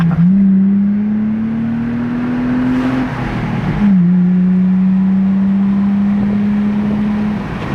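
A Lexus IS300 engine with over 200,000 miles revs loudly inside a tunnel, holding a steady droning roar that climbs, dips sharply around the midpoint, then settles into a sustained hum.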